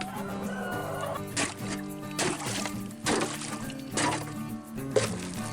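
A crowded flock of roosters and chickens clucks and calls steadily, with several louder bursts of crowing and squawking rising above the murmuring flock at moderate distance.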